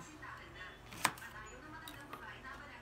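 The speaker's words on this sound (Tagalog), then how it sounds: "Tapos, hiwain lang natin yung ating talong." A knife slices through eggplant on a cutting board, with one crisp, sharp chop followed a moment later by a fainter second cut over quiet background noise.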